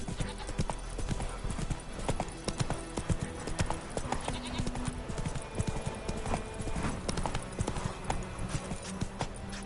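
Hooves pound in a fast, continuous clip-clop as a horse gallops in the game The Witcher 3: Wild Hunt, a busy rhythmic drumming that stays close and even throughout.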